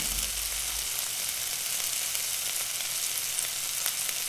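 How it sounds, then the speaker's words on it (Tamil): A chicken filling for spring rolls, seasoned with Ajinomoto, sautés in a pan with a steady, close sizzle and frying crackle, with faint stirring and no talk. "அஜினமோட்டோ போட்டு 7 நிமிஷம் வதக்கணுங்க."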